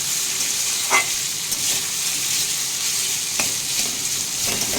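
Onion and potato frying together in a pan, with a loud continuous sizzle up close and occasional scraping stirs of a spatula, no talking.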